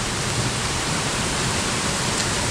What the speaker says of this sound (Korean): 지금 계속 비가 내리는 상황에서도